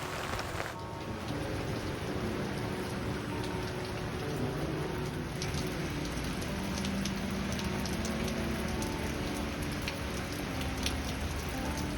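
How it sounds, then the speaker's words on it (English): Steady afternoon rain falls outdoors, a dense, even patter on surfaces that continues unbroken for the whole stretch, with no voices. "Pretty soon, though, the afternoon rains came rolling in."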